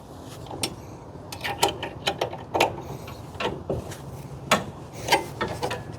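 A bed rack clamp being cranked down snug on a Chevrolet Silverado ZR1 truck bed gives a run of irregular, crisp ratcheting clicks and ticks, close and fairly quiet, over a low background hum.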